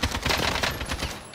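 Rapid automatic gunfire in the video game Call of Duty Warzone, a dense, loud, close burst of overlapping shots lasting just over a second before trailing off.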